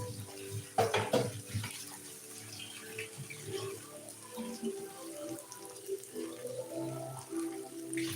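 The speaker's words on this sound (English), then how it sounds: "So just add some water." Water pours from a tap or jug into a pot of beef for stew, a steady splashing stream running throughout at close range with a brief louder clatter near the start and no speech.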